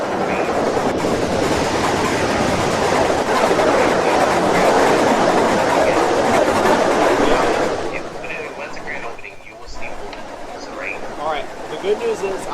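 A train in the Roblox video game rumbles along with a steady rolling clatter for about eight seconds, then fades, leaving quieter ambient game sounds with faint chirps.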